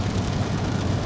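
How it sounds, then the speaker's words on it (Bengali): Heavy rain pours down during a road trip from Kolkata to Kurseong in the hills, a steady, dense hiss of downpour that stays loud and unbroken throughout with no voices. "এদিকে খুব জোর বৃষ্টি হচ্ছে"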